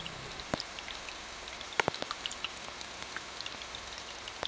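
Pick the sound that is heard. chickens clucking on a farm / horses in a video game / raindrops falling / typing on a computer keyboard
raindrops falling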